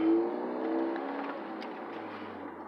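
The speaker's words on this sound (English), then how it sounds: "the car definitely sounds like it's racing, even though it's going like 20 miles per hour" A Ford Focus ST with a manual transmission driven slowly while its engine drones and revs from inside the cabin, a steady throaty hum that swells slightly and then settles, with no talking.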